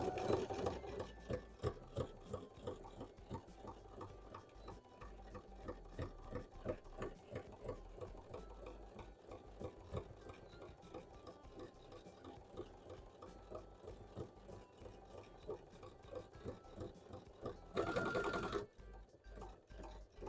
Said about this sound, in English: this is something that my sewing machine should be able to handle